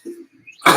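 A single short cough bursts out close up after a moment of quiet, preceded by a faint throat sound.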